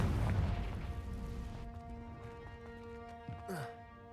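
A Confringo blasting spell in a Harry Potter game erupts as a loud boom that decays over about a second and a half, leaving sustained tonal hums and a brief voice-like sweep near the end.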